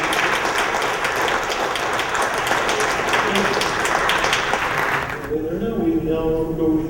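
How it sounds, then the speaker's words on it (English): An audience at an astronomy club meeting gives a speaker a round of applause, dense and sustained for about five seconds before cutting off into quieter room sound with a voice beginning to talk. "just another round of applause for Dr."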